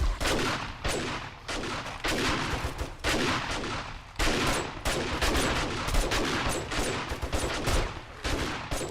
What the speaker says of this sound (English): Oh, I brought my shotgun. This, we can do this with. We can jump down and go and shoot them.